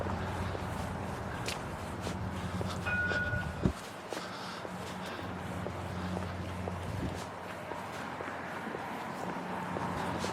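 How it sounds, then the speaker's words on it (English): Two trams moving along the street at Leith Shore, heard as a steady low rumble and hum from some distance, with a brief clunk partway through and light outdoor city background. "There's 2 trams down there."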